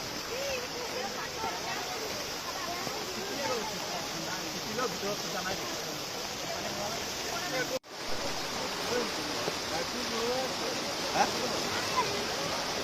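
Steady, loud rushing of river water beneath a bridge fills the whole stretch, with a brief dropout partway through and faint voices blurred into the flow.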